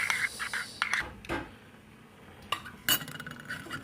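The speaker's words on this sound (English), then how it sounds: "I'm going to stir this." Spoon stirring oatmeal and milk in a bowl, a few quick clinks and scrapes in short bursts with a quiet gap in the middle, close and soft with no talk.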